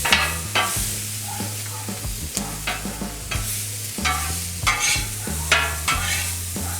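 Brisket topped with pepper jack cheese tossed with spatulas on a 36-inch Blackstone griddle, with quick clanking scrapes of metal on steel over a constant sizzle, close and lively.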